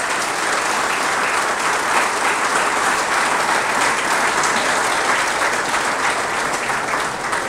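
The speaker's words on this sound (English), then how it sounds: "Let the positivity start with your applause." A seminar audience at Narayana Multispeciality Hospital in Ahmedabad gives sustained, loud applause, an even wash of clapping that holds steady throughout.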